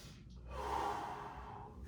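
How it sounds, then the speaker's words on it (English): A single slow, deep breath drawn in and let out close by during a shoulder and lat stretch, a soft airy swell in the middle with no talking. "take a nice deep breath"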